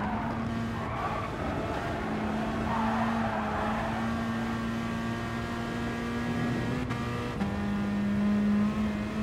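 A Peugeot RCZ Group 4 race car in GT Sport on the Dragon Trail Seaside track holds a steady engine drone, with its pitch stepping as gears change partway through and again near the end, plus faint tyre noise.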